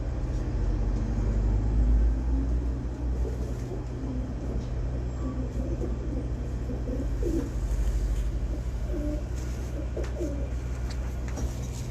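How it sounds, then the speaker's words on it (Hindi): Pigeons cooing in a loft, soft repeated low coos over a steady background rumble, moderately near with no talking. "ये मुकम्मल कबूतर है।"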